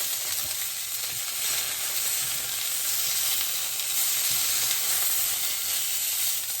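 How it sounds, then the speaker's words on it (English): Steak searing in a hot pan gives a steady, continuous sizzle and crackle with a broad hiss throughout, loud and close, with no voices. "We're just making a crust on our steak."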